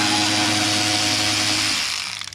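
A power driver with a T25 Torx bit on an extension whines steadily while unbolting the intake lid bolts on a Cadillac CTS-V during a cold air intake install, then spins down and stops.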